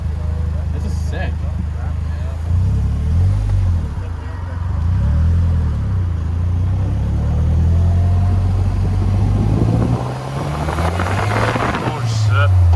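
A GM car with a 2.4 liter four-cylinder engine and five-speed manual gearbox drives with a loud, low engine drone that rises and falls through gear changes, with voices talking over it.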